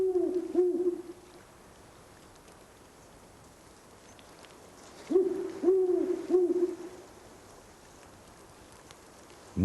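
Deep, resonant hoots of a great owl in a volcanic highland setting, two separate bouts of about three to four calls each, fairly close and clear, with a soft rain-like hiss underneath and quiet between bouts.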